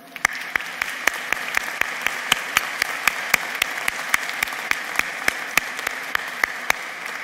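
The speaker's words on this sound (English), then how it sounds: "I hope you will join me in a round of applause for them." A law school commencement audience gives the faculty a round of applause, a steady patter of many hands with sharp individual claps from a nearby clapper standing out in a regular rhythm.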